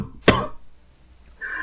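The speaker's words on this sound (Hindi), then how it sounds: "कुछ खांसी आ रही है, उसको कंट्रोल कर रहा हूं" A single sharp cough from a man with a fever and a cold, loud and close, followed by a fainter throat-clearing rasp a moment later, with no talking.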